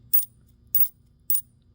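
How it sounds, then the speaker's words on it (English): Silver coins drop and clink in three separate bright metallic bursts, evenly spaced and close, with quiet gaps between them and no talking. "I just wanted you to notice that the sound of these coins"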